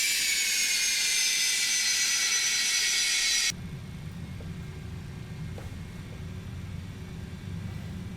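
Roar of MD80 jet engines in a flight simulator, a loud steady hiss and whine that cuts off abruptly after a few seconds to a lower, duller engine rumble that continues steadily.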